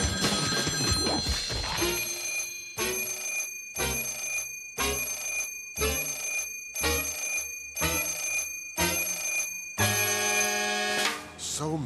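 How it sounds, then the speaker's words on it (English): An old-fashioned telephone bell in the Sam & Max video game rings in a regular series of about eight loud, evenly spaced bursts, with music underneath. "we could always count on that phone to ring."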